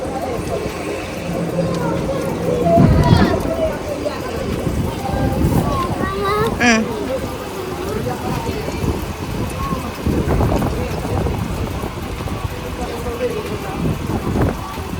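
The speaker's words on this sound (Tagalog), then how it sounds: "Ang hangin." Wind gusts across the microphone outdoors in Finland, a loud continuous rumbling buffet with swells, while people talk beneath it.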